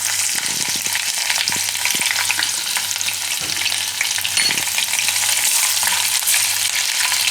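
Whole spices, chopped bay leaf, cinnamon, cloves, peppercorns and green chillies sizzling in hot oil, a continuous bright crackle with occasional stirring knocks against the pan.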